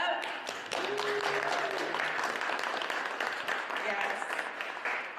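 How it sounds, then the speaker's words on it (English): Audience applauding at a mayor's press announcement in Baltimore, sustained clapping at moderate volume with a few voices and a brief spoken word mixed in. "So you guys want to clap that"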